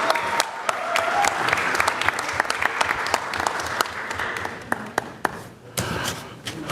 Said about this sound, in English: Let's give them a round of applause, everyone.